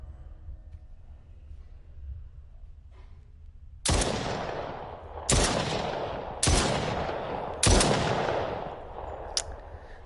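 Four loud gunshots crack out in the VR game Brookhaven Experiment. They come about a second apart after a quiet opening, each with a sharp attack and a decaying tail, and a fainter shot follows.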